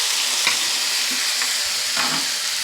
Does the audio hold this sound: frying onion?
yes